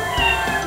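A cartoon kitten gives a single short, close meow, bright and clear, with nothing else around it.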